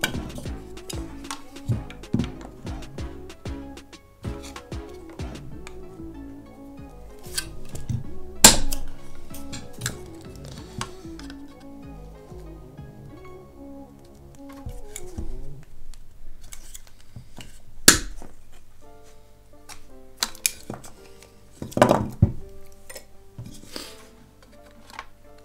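Snipping at a part inside an Electro-Voice EVID 4.2 loudspeaker, with irregular close sharp clicks and cuts in short bursts separated by quieter pauses.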